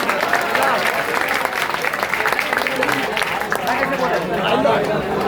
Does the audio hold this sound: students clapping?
yes